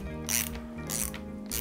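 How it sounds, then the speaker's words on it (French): A ratchet with a 28 mm socket tightens a bike kit assembly, its pawl clicking in three quick bursts of rapid metallic ticks, close and clear. "avec une douille de 28 mm, vous serrez l'ensemble"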